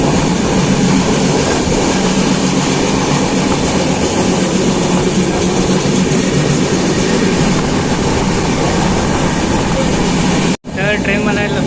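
Mandovi Express rolling on its Dadar to Chiplun run through the Konkan region, past Vikhroli, with a loud, steady rumble and rattle of wheels on rails and jolting carriages, cutting off sharply just before the end.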